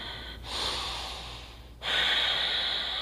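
Two deep breaths drawn in through the nose during a hip opening drill, each a long, close, airy rush of air, the second louder and sharper than the first.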